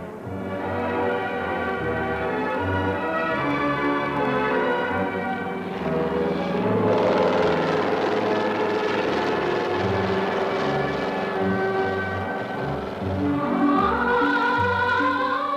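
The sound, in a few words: helicopter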